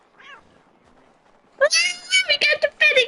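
A cat in the video game Assassin's Creed 3 meows in a rapid series of loud, close, drawn-out cries after a quiet opening, with a brief faint voice at the start.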